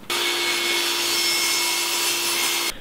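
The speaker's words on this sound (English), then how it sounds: "So let's cut this at 15." A power saw slicing through a 1 by 12 wooden board, a loud, steady whining cut lasting a few seconds before stopping abruptly, no voices.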